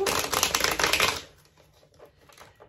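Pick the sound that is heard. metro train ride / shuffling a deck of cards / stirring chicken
shuffling a deck of cards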